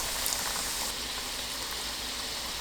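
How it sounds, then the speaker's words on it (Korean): Steady, dense sizzling and crackling of carrot cheese balls deep frying in hot oil, continuous and close, with no voices. "식용유를 넉넉하게 붓고 예열되면 노릇하고 바삭하게 튀겨주세요."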